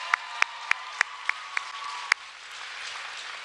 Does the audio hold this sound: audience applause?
yes